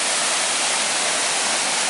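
Tunnel Falls on the Eagle Creek Trail roars as a steady, loud wash of falling water close by, with no pause or change across the short stretch.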